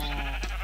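Lime-colored sheep in the Minecraft video game give a short, close bleat that stands alone, with no talk over it.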